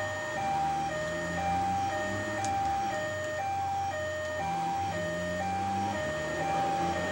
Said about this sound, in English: ear bleeding, annoying siren sound, and it is annoying, but it is helpful